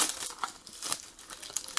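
Factory plastic shrink wrap being torn and crinkled off a trading card box, a quick run of sharp crackling rustles and small tearing bursts, close and continuous.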